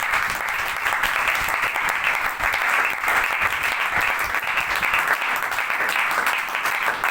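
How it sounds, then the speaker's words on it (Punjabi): Dense, steady applause from a church congregation at a Punjabi-language Christian sermon, many hands clapping together at close range and holding an even level for the whole stretch without a break. "ਤਾਲੀ ਵਜਾ ਸਕਦੇ ਪ੍ਰਭੂ ਦੇ ਲਈ।"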